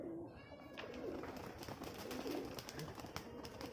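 A Giribaz pigeon of Russian line in Rajshahi, released to fly amid leafy trees, comes through as faint fluttering and soft cooing against quiet outdoor background, with light rustling throughout.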